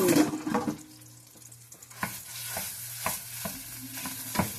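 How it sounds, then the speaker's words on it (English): Sausage fries in a heavily oiled skillet under a low, steady sizzle, punctuated by a series of sharp scraping and mashing knocks from a utensil at roughly one-second intervals; no one speaks. "mash our sausage. And y'all saw me put all that oil in my skillet."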